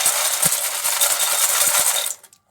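Crispy caramel popcorn rattles and scrapes as it is stirred in a pan, a dense continuous crackle close to the ear that stops abruptly near the end.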